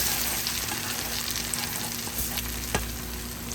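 Onions and other ingredients hitting a pan of chana dal, giving a steady, close, loud sizzle and fry with stirring scrapes and one sharp clink, no talking.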